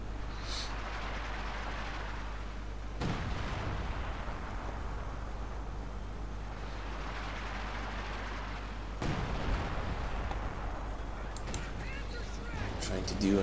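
Artillery fire in Company of Heroes 2, British forces in a 4v4 match, shelling a medical emplacement: heavy booming blasts and a continuous rumbling roar of battle, with sharper bursts near the start and around the middle, under someone talking.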